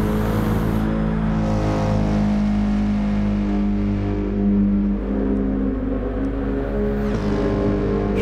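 Race car engines in Gran Turismo 7 holding a loud, steady high-pitched drone, with pitch shifts as cars run side by side and pull out, close and continuous.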